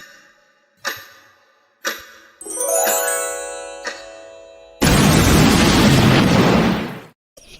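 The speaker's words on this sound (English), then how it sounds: "The explosion's gonna get me every single time." An explosion sound effect opening a comedy podcast segment: two sharp pops and a rising whoosh, then a loud, full-bodied boom that roars for a couple of seconds before cutting off, with no talking.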